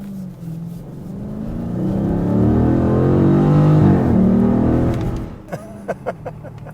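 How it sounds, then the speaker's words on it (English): A 2020 Dodge Challenger R/T Scat Pack Widebody Shaker 50th Anniversary V8 revs up close and loud, swelling into a deep rising roar, then dropping to a burbling idle punctuated by a few sharp blips. "Just that huge V8 and the gurgle."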